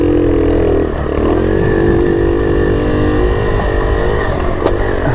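A 1970 Honda CT-70 Trail 70 minibike with a small single-cylinder engine runs close by, a steady buzzing drone that revs slightly and holds throughout with no talking.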